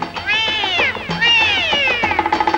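A cat meows in an old 1960 Bollywood film song about a black cat, giving two long, loud, close wavering cries followed by short rapid mews.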